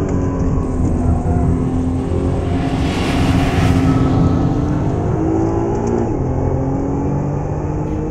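A 2013 Nissan GT-R Black Edition accelerates hard on a race track, its engine droning loud and steady with rising pitch under heavy wind noise, a brief whooshing swell passing midway, no talk.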